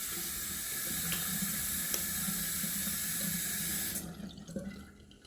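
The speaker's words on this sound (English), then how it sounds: "A little more cold water." Cold water runs from a tap into a sink in a steady, hissing stream for about four seconds, then cuts off, leaving a few soft drips and splashes.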